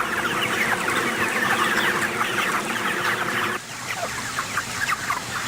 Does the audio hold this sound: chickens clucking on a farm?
yes